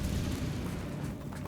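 The Confringo fire blast spell in Hogwarts Legacy, a dense, steady roaring rumble of fiery blast that fills the whole moment with no break or voice.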